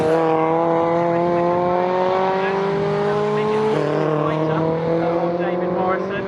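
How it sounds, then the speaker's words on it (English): MG ZR and MG Midget race cars at Snetterton, the ZR on slick tyres and the Midget on treaded tyres, engines droning loudly in a sustained high whine that shifts pitch, under a commentator's voice. "So it's David Morrison, slick tyres on the ZR, threaded tyres on the Midget."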